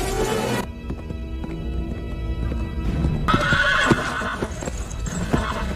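Horses carrying riders with burning torches gallop past with loud clip-clopping hooves, and a sharp whinny rings out partway through amid a dense, busy scene.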